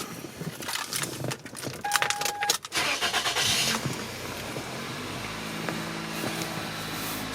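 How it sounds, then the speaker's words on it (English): A 1999 Toyota Corolla cranks with a few stuttering turns, fires up loudly and settles into a smooth, steady idle, heard close by with no talk over it. "Start the car."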